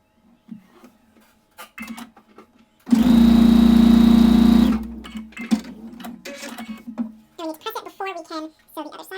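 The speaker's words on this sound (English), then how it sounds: "we're going to sew up this edge and sew up this" A sewing machine stitches the straight long edges of a fabric template for a tussy mussy, giving one steady, close whirring run of about two seconds, with talking before and after it.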